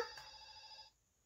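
A telephone rings once in a short, faint electronic chime that sustains for under a second and then cuts off, within a children's nursery rhyme about five little monkeys.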